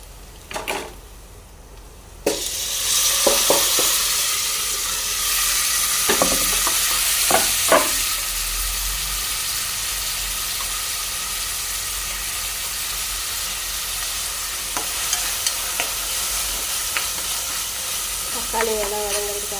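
Tomatoes and onions sauté for soya bean kootu, a loud steady sizzle that bursts up after a brief quieter start, with occasional clinks of a spoon on the pan.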